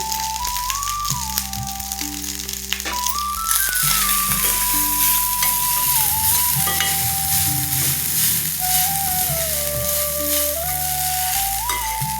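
Cooked rice for cumin rice stirred and fried in a pan with curry leaves and salt, a steady sizzle with scraping stir strokes continuing throughout, loud and close.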